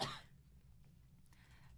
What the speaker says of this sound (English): I'm going to cough really quickly.